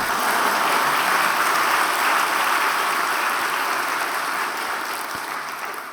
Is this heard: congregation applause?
yes